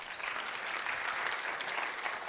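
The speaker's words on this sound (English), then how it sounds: "I think that calls for a round of applause for our innovators in the room" Audience at a national ICT summit applauding innovators in the room, a dense, steady wash of clapping throughout, fairly loud and sustained, with no voice over it.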